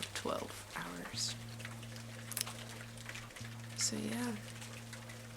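Rain falls steadily as a soft, continuous hiss throughout, beneath a person talking and a sustained musical tone.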